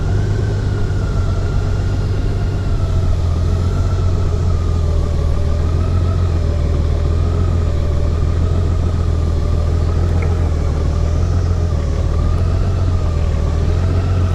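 A 2021 Honda Goldwing motorcycle engine settles into a steady, low idle right after starting, with a continuous close rumble and a faint higher whine holding level throughout, and no voices.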